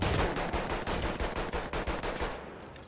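The M1903 Experimental rifle in Battlefield 1 fires a rapid, steady stream of loud shots in close succession, a dense rattling burst of automatic gunfire that stops just before the end.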